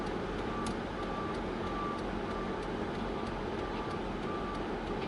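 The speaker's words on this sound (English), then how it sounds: "the truck that just stopped me, I had to wait while it unloaded a load" A stopped truck unloading emits faint, regularly spaced reversing beeps, heard at a distance under a steady, dense rumble of traffic and engine noise, with no talking.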